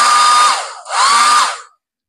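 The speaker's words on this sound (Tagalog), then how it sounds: "by the way, may hair dryer pa rito" A hotel-room hair dryer blows in two loud, close bursts with a steady whining hum, briefly dipping between them, then cuts off into silence.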